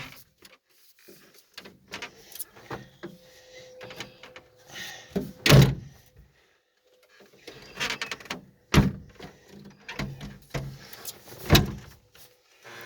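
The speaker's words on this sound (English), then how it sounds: "Make sure the door's closed here, guys." An old 1941 Dodge WC truck door swings shut with a loud solid thunk, followed by further rattling clunks and a second slam, amid scattered handling noises close by.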